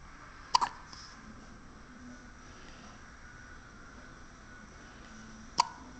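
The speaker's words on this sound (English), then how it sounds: "6 days old, having the hiccups" A six-day-old baby girl hiccups twice, about five seconds apart, each a sharp, brief, close catch of breath against a quiet hissing room background with no talking.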